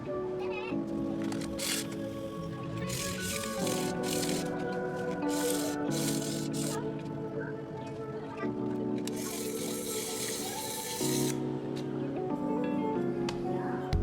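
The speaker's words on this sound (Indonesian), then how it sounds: "Amplas secukupnya bagian dalam mangkok kampas ganda agar rata." Repeated rasping strokes of 80 or 100 grit sandpaper scrub against the inside of a Honda Vario 125 CVT clutch bell in uneven bursts, with a steady hum underneath.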